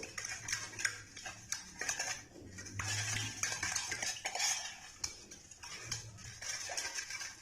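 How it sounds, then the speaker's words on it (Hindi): A utensil stirs ghee and lukewarm water together in a bowl, giving repeated close metallic scrapes and clinks in an irregular rhythm, with no talk. "और अब इसको अच्छी तरह मिक्स करेंगे घी और पानी को।"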